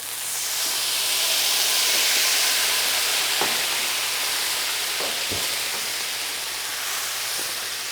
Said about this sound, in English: We'll put the white wine in there to deglaze the pan.